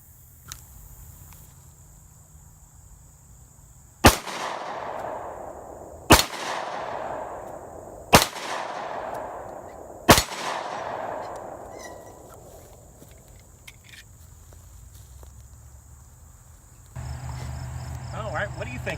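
Four sharp, loud pistol shots from a Rock Island Armscor 1911 chambered in 10mm, fired at roughly two-second intervals, each followed by a long ringing outdoor echo that fades away, then quiet ambience.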